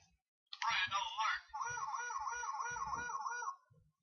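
A warbling electronic siren, like a toy's, wails steadily for a few seconds after a brief burst, with faint thumps and clicks underneath.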